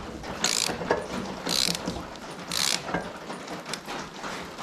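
Ratchet mechanism clicking while a track tension spring is compressed, heard as three loud rasping bursts spaced about a second apart with lighter ticks in between, alone with no talk.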